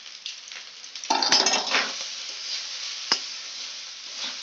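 Home-made fried rice with salt, sugar, ghee and garam masala is stirred in a pan, a faint hiss of frying broken by a short burst of scraping and one sharp utensil knock.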